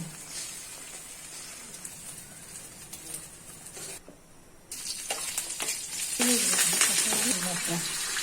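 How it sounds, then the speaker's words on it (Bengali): Two eggs fry in a pan with a continuous close sizzle and spatter, briefly dropping away and then returning louder and crisper, with faint stirring noises and no voices. "এবার ডিম দুটো ভেজে নেয়"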